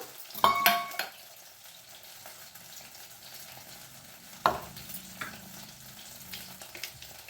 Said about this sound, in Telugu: మనకు ఆల్మోస్ట్ వంకాయ కూడా ఫ్రై అయిపోయింది